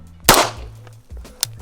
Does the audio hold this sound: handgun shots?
yes